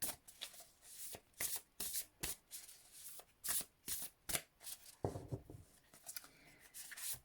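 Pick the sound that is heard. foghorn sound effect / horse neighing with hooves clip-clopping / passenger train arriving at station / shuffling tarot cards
shuffling tarot cards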